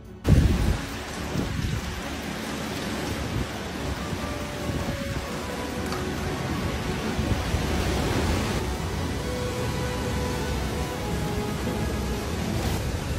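A violent windstorm sweeps over Manaus, a city under a sand cloud strong enough to tear roofs off homes, producing a dense, steady roar of gusting wind and rain-like noise throughout, with a sharp loud burst at the start.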